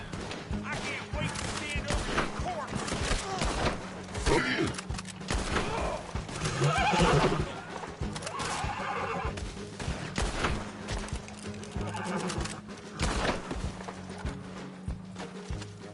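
A horse whinnies in a busy Red Dead Online game mix, with hoofbeats and gunfire crackling around it and a voice talking over parts of it.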